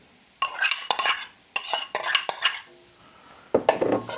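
A spoon scrapes and clanks through Thanksgiving stuffing mixed with sausage in a pan, in loud close bursts of stirring separated by brief pauses, with no voices.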